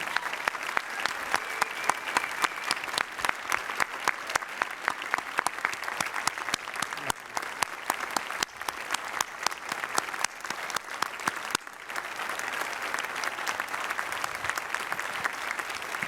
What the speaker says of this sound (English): Please welcome with a round of applause Mayor Tom Henry and Mr.